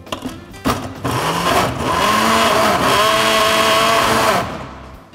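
A blender whirs up to a steady high-pitched drone as it chops shallots and garlic, its tone wavering slightly under load after a few short bumps and starts, then cutting off near the end.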